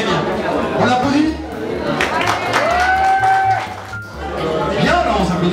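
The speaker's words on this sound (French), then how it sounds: "On applaudit." A crowd applauds at the French beard championship, the clapping mixed with cheering and chatter while voices talk loudly over it.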